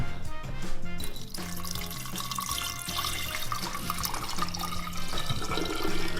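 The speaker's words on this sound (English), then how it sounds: "let's just pour the water in" Water poured steadily into a jar for a prank, a continuous splashing rush running the whole time over background music.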